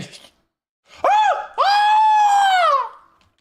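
A man screams out loud twice in a row, a short strained yell followed by a longer, sustained cry that trails off, with quiet before and after.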